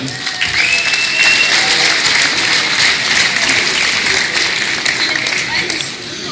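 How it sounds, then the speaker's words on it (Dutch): An audience at a carnival society session applauds loudly, a dense steady wash of clapping that carries on for several seconds and fades slightly at the end. "Applaus ervoor."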